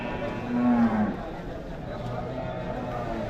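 Bullocks that pull carts moo at a busy open cattle market in Vaniyambadi, with one low call standing out near the start. Someone talks over a constant crowd murmur throughout.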